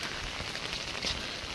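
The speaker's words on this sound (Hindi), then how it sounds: "भाई जोर वर्षा देखो वर्षा देखो" Heavy rain pours steadily onto an empty road, a dense continuous hiss of drops spattering the surface without letup, close and fairly loud with no voices.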